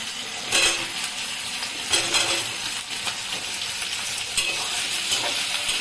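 Cut potatoes frying in hot oil for a soybean and potato curry, a loud sizzle with rhythmic spatula scrapes and metal clinks against the pan, no voices.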